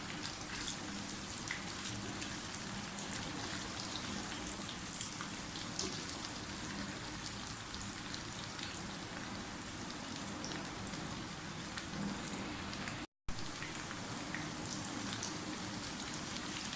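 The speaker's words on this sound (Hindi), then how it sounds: "आलू जो हैं हमारे फ्राई होने लगे हैं" Potatoes frying in oil in a pan for a Kashmiri dum aloo, a steady, quiet, even crackle and hiss, like light rain, running on without a break.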